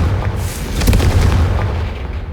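Confringo fire spell exploding in the Hogwarts Legacy game: a loud, sustained rumbling blast with a crackling burst in the middle, filling the whole moment with no speech.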